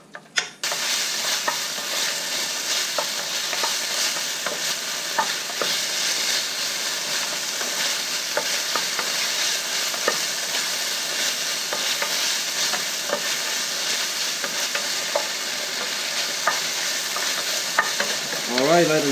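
Beef stir-frying in a pan, a loud steady sizzle with scraping stirs, continuous and close with no talking.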